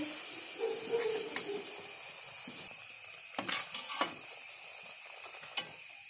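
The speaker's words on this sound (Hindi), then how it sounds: "इसी तरह हम सारे पकौड़ों को फ्राई कर लेंगे" Aloo and onion pakoras frying in hot oil, a steady close sizzle and hiss with a few sharper bursts of crackling and stirring clatter partway through.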